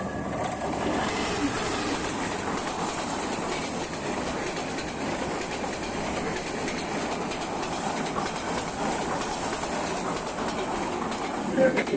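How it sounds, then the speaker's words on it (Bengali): A train rushes past at speed on a rainy day near a hill path toward a waterfall, a steady loud rumble with wheel clatter filling the whole stretch, voices faintly mixed in. "ট্রেন অনেক জোর আসছে।"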